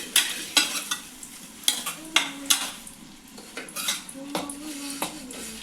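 Tomatoes fry in a pan for chicken curry while a metal spoon stirs them. Repeated sharp clanks and scrapes against the pan ride over a soft, continuous sizzle.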